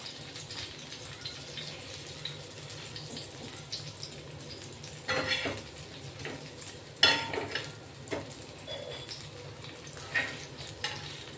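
Green chillies frying on a hot tava, a steady low sizzle running throughout with occasional louder crackles and scraping stirs as they are turned, close and alone without talk.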